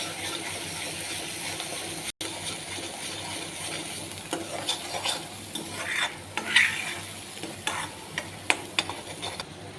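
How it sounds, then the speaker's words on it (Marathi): A coconut, onion and garlic masala paste is stirred and fried in hot oil over mustard seeds and cumin, giving a steady close sizzle with scraping spoon strokes that turn busier and louder toward the end, no voices. "मसाला हलवून घेऊ"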